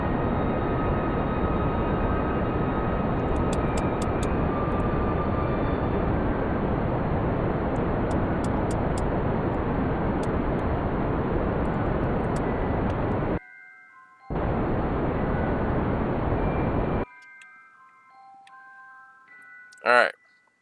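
Rocket engine roar in Kerbal Space Program on PS4 as the throttle is pushed up, a loud steady broadband rush that cuts out briefly, returns, then stops, followed by a few electronic game chimes.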